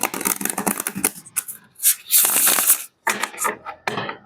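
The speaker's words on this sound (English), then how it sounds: "one last shuffle and we will be good to go." Close, crisp bursts of tarot cards being shuffled by hand come in uneven flurries, with brief pauses between riffles.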